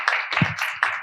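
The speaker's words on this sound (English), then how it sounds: "Please have a applause." A short burst of applause at a UK–Indonesia higher education forum, with steady clapping from an audience for about a second.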